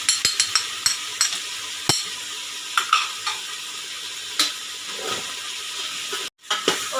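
Mutton with turmeric, salt and chilli frying in a pot, its soft sizzle and hiss broken by repeated sharp scrapes and clinks as a spoon stirs against the metal.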